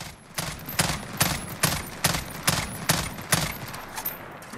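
FAMAS burst fire in Call of Duty Modern Warfare, about ten evenly spaced sharp shots or tight bursts in a steady rhythm, loud and close, fading slightly toward the end.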